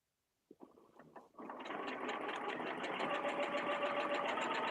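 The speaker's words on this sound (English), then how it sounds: "I'm just going to start slowly so that I can put some tiny locking stitches right here, and I'll just sew right down to the other side." Sewing machine starting slowly with a few separate stitch bursts, then settling into a steady, continuous whirring run of tiny locking stitches, close and clear with no talking.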